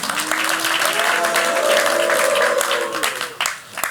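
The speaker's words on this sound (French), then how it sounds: "Vous pouvez l'applaudir." A crowd at a municipal election rally in Rennes applauds loudly and steadily throughout, with a sustained voice or cheer rising briefly above the dense clapping.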